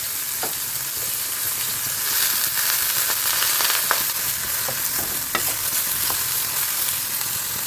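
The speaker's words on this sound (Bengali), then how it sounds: "নিম পাতাটা আগে ভাজার কথা" Neem leaves and eggplant fry together in a pan, a steady close sizzle broken by occasional scrapes and clicks as the pieces are stirred, with no voices.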